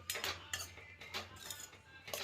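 Ivy gourd sambharo cooking in a pot on medium heat is stirred with a metal spoon, giving about four rhythmic scraping, clinking strokes at close range.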